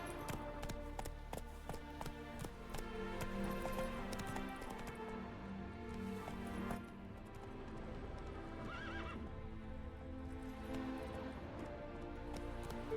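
A horse in the video game The Witcher 3: Wild Hunt clip-clops along steadily, its hooves tapping in a continuous rhythm, with neighs and snorts mixed in over a background music bed.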